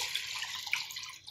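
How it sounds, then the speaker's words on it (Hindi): Six glasses of water poured into a cooking pot for chicken vegetable macaroni, a short steady hissing splash of running liquid, close and moderately loud. "एक बर्तन लेंगे, उसमें 6 ग्लास पानी डाल देंगे।"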